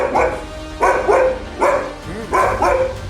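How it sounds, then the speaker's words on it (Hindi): A dog barks and yelps in four spaced bursts at night in the PGI area of Lucknow, each cry loud and close with a strained, howling edge between them. "कुत्ते की चीखने की आवाजें"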